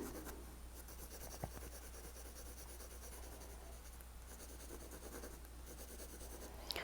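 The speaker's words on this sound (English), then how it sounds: "I'm going to shade below that, drawing that line down" A pen shades and draws lines on paper for a tangle pattern, giving a soft, steady scratching close by with a couple of sharper ticks, and no voices.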